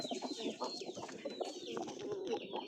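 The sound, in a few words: pigeon cooing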